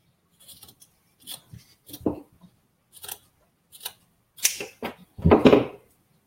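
Scissors snip through a large lace doily, a series of crisp, close cuts in irregular bursts separated by short pauses, with no voices.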